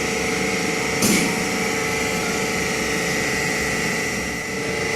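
Material testing machine running while its grip clamps a steel specimen: a steady loud mechanical hum with constant tonal whine, broken by one sharp click or clunk near the start, no voices.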